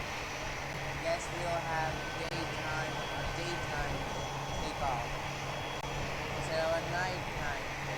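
An airplane in the PTFS video game drones steadily as it takes off, a continuous engine whine and hum under a person talking throughout.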